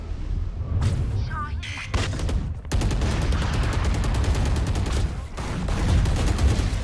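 Rapid bursts of gunfire in the video game Valorant, loud and near, with dense repeated shots running through most of the clip under a busy game mix, while players talk over it.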